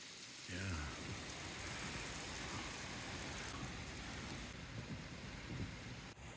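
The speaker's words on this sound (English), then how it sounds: "this is a friggin' hailstorm." Hail and icy rain pelting down during a freezing March 2024 hailstorm in San Mateo, a dense steady roar of impacts close by, running throughout at an even level.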